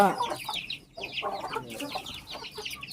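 A hen clucks repeatedly nearby in short, busy bursts, with faint background noise and no one speaking.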